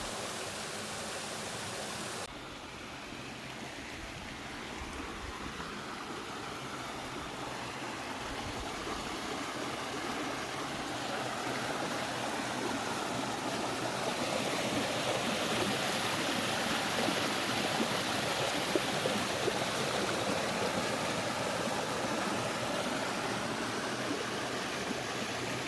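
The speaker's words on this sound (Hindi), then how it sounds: "पानी की बहने की आवाज़ सुनकर ही मन शांत हो जाता है" Water rushes steadily through a stream in Wadi Al Muaydin, a continuous broad hiss that swells slightly over time with no voices.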